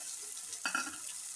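Eggs hit a pan of frying tomato masala for an egg chutney, a brief faint sizzle that flares up at once and fades, set against a quiet kitchen.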